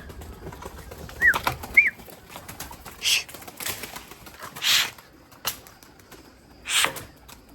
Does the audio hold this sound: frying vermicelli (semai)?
no